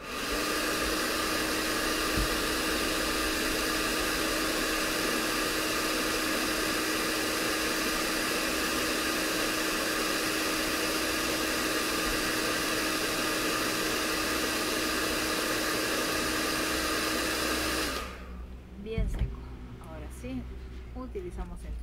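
Hair dryer blowing on fresh paint on a craft doll, a loud continuous whooshing whine held for about eighteen seconds, then switched off, leaving quiet handling sounds.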